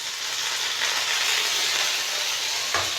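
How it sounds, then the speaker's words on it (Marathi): Curry leaves and green chillies frying in hot oil, giving a steady, loud, close hiss and crackle that runs throughout without pause. "कढीपत्ता जास्त जसं तडतड करतो ना"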